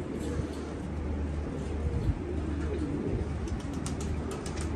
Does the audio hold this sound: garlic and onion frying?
no